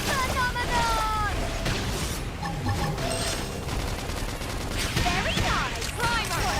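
Sustained gunfire from a sci-fi battle in Xenoblade Chronicles X: Definitive Edition, rapid shots and bursts layered with explosions, music and game voices calling out throughout.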